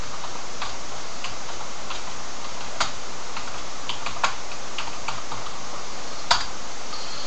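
Typing on a computer keyboard, entering a switch configuration command: soft, steady key clicks continue throughout at close range over faint hiss, with a few louder taps.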